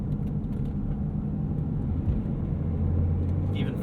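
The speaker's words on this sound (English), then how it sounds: "The engine sounds really good." A 2012 BMW X5 xDrive35i's engine hums low and steady from inside the cabin while driving, a constant rumbling drone with road noise.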